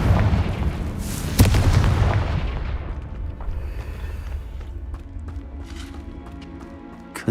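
A loud Confringo spell blast explodes in Hogwarts Legacy, a heavy booming detonation with a sharp crack that rolls into a long rumbling tail and fades over several seconds, with scattered crackling debris sounds.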